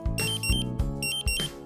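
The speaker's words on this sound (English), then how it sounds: "When this alarm sounds, evacuate the danger area immediately." A Dräger Pac gas detector sounds its A2 main alarm, a loud, shrill electronic tone pulsing in rapid repeated bursts of roughly four beeps per second.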